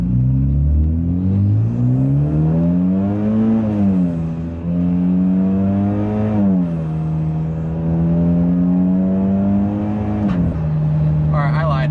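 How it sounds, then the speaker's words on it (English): A modified Hyundai Genesis Coupe 2.0T engine pulls steadily through the gears at half throttle, its tone rising and dropping with each shift, loud and close, with a voice speaking over it. "I'm going to go ahead and do a light pull and do about half throttle here out of first gear"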